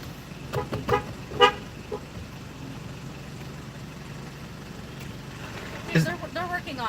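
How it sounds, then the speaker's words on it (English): A car horn toots in a few short bursts at a fast-food drive-through window, with an idling engine underneath and a voice talking nearby. "I'm even honking the horn now."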